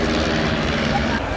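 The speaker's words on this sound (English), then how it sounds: "Turning like this with the least powerful aeroplane on the outside of the arc" A De Havilland Chipmunk light propeller aeroplane turns during an airshow display, its engine giving a steady, loud droning roar that holds throughout without a break.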